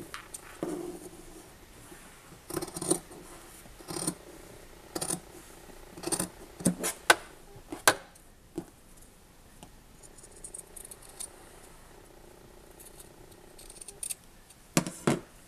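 Scissors snip around the edge of a sewn fabric wipe, a sparse series of short, crisp cuts with quiet pauses between them, close by in a calm room.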